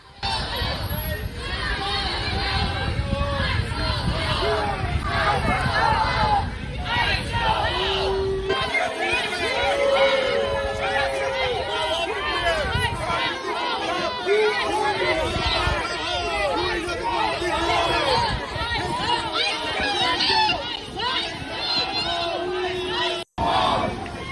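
A crowd of protesters facing ICE agents at a bus and subway stop in D.C.'s Columbia Heights keeps up a dense, steady roar of chanting and babble, loud and unbroken for the whole stretch, cut off abruptly near the end.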